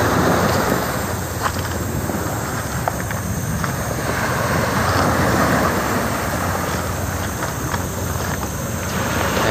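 Wind buffets the microphone over the steady wash of waves along a shore at Lobo, Batangas, with no voices.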